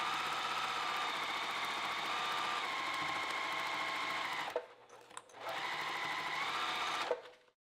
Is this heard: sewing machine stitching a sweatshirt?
yes